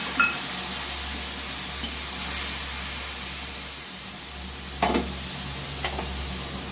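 A spice paste of red chilli, turmeric, cumin, salt and sugar mixed with water is added to a hot pan for a paneer curry, giving a steady close sizzle and hiss with a few light stirring scrapes.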